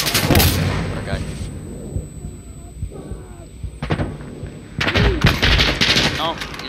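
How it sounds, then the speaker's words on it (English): Gunfire in Insurgency Sandstorm comes as loud close bursts of rapid shots at the start and again near the end, with quieter scattered shots and faint sounds between, and voices talking in the background. "I shot him"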